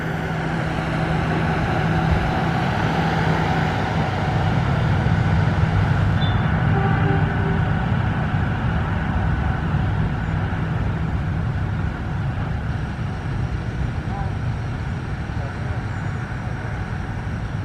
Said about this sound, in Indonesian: Kereta api Joglo Semarkerto ini terdiri dari kereta kelas ekonomi